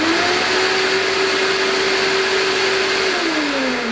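A workshop vacuum extractor, connected through an airlock hose system, runs at steady full power with a loud, constant whine and broad rushing airflow, and its motor pitch drops slightly near the end.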